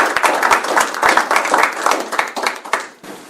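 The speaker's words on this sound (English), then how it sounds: "Let's give him a applause." A room of people at a city commission meeting claps together, steady overlapping hand claps for a few seconds before tapering off, fairly close and loud.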